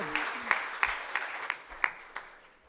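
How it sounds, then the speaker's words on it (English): Scattered clapping comes from a small forum audience, about eight distinct claps spaced evenly and fading toward the end, sparse rather than a full ovation, with a faint voice briefly at the start. "applaud. There you go."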